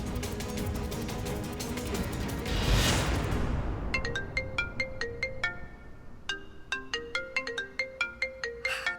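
A mobile phone ringtone plays a repeating melodic pattern of clear electronic tones, starting after a burst of noise and continuing steadily, close and moderately loud with no speech.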